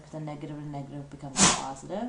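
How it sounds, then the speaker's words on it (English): A dog sneezes once, sharp and close, cutting in over a man's steady speech explaining a math problem. "And that was my dog sneezing."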